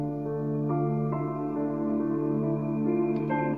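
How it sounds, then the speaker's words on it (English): A piano part from a studio track, filtered down so its highs and lows are trimmed, plays sustained, layered chords at a steady moderate level, with a few new notes entering along the way and no voices. "The piano part, but it's filtered down a little bit"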